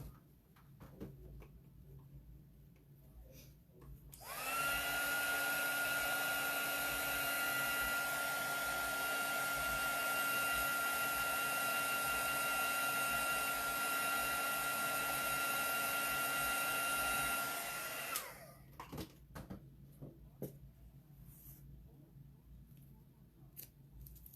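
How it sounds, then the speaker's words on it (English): A hair dryer blows steadily for about fourteen seconds to dry a nail art transfer, switching on abruptly and cutting off, with quiet room noise before and after. "Sorry, I have to blow a little more."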